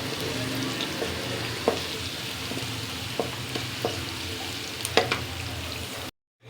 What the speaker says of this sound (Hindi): अब इसी ऑयल में मैं एक प्याज ऐड करूँगी। मैंने इसको रफली चॉप कर लिया है और इसको हम थोड़ी देर लाइट ब्राउन करेंगे।